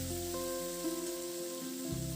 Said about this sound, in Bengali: এরপর নাড়াচাড়া করে মশলাগুলোকে মিনিট 3-4 সময় ধরে খুব ভালো করে কষিয়ে নিলাম।